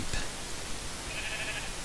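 Two brief Minecraft sheep bleats sound over a steady game background hum, the first short and early, the second a longer wavering bleat near the end.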